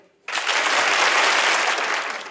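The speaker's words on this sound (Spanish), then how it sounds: "¡Aplaudid!" A studio audience on a Spanish television show breaks into sudden, loud applause that holds steady as a dense wash of clapping for about two seconds, without audible voices.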